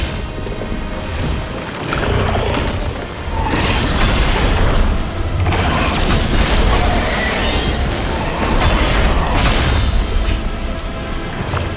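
A whirlwind attack in the action game The First Berserker: Khazan, heard as a dense series of heavy whooshing impacts and crashes in loud bursts that rise and fall over the stretch with no talking.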